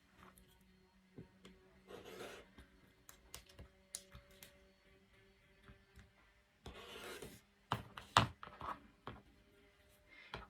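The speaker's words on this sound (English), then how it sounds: "Then you're going to cut it out." Scissors cut a fabric hexagon along a hexie ruler, giving soft scraping and snipping sounds in irregular bursts, faint and close, with brief louder rustles near the end.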